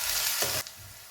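Ginger-garlic paste sizzles in a pan with a loud, dense hiss that cuts off abruptly partway through, leaving a faint low murmur.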